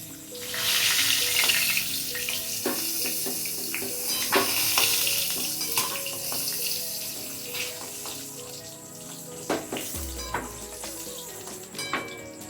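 Pointed gourd (potol) frying in oil for a spicy doi potol gives a steady soft sizzle, with occasional clinks and scraping from a spatula in the pan, fairly close and unaccompanied by talk.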